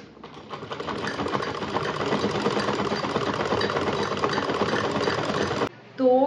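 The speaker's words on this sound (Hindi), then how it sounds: "अभी हो रहे हैं शाम के 5 बज रहे हैं और मैं अभी सूट सिल रही हूँ, तो सूट सिलती हूँ फिर आपसे।" Domestic sewing machine stitching a salwar suit, a steady, dense mechanical whirr running continuously for nearly six seconds before stopping abruptly, with a brief clatter at the end.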